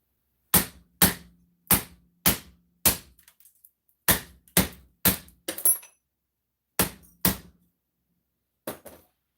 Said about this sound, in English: Then I just break these pieces apart